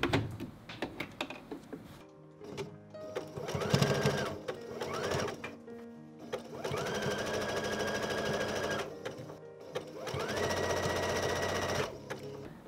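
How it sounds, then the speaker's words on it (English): Close sewing machine running a zigzag stitch along an elastic casing on a blouson, in several steady whirring runs of a few seconds each, broken by short pauses and handling thumps. "I'm using a zigzag stitch here."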